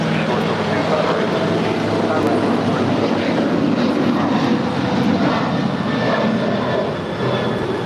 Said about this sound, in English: That is United 387 departing to Houston. It's an 8-year-old 737 900ER.